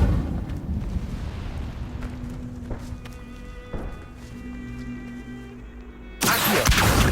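An Incendio fire spell cast in Hogwarts Legacy bursts out as a loud, sudden whoosh late in the clip, rising abruptly from quieter rumbling and faint tonal game sounds.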